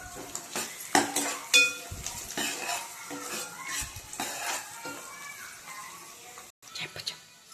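Onions being stirred in a cooking pan until they turn reddish, with a spoon scraping and clinking against the metal in an irregular, close-up rhythm and a faint sizzle underneath.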